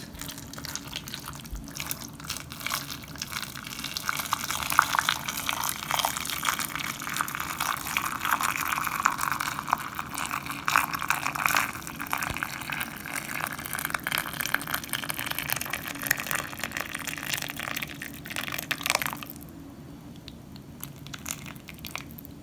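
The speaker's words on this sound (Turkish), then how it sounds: "Dolma biberlerine gelecek kadar sıcak suyumuzu ilave ettik." Hot water poured into a pot of Turkish stuffed peppers (dolma biber), a steady wet splashing and trickling rush that runs for about nineteen seconds before dropping to a quieter tail, with no talking.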